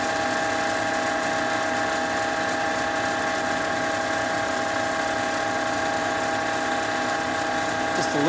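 Wood lathe spinning a pen blank at 2,000 RPM while a shellac-based finish is pressed on, giving a steady close mechanical whine with sustained tonal hum and faint rubbing, continuous throughout.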